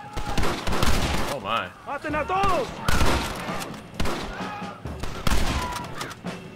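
Gunfire from a Western video game set among rebels, bursts of shots mixed with game sound effects and music while a person talks over the action.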